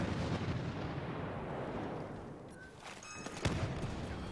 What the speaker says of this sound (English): Okay, that wasn't a good grenade throw.